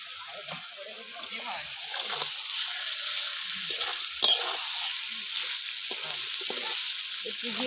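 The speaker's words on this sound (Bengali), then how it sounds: "একটু জিরে বাটা দিয়ে একটু নেড়ে ছেড়ে নিয়েছি" Cumin paste being stirred into chicken curry with potatoes as it fries in a pan: a steady, bright sizzle runs throughout, with soft scraping stirs and one sharp clink of a utensil near the middle.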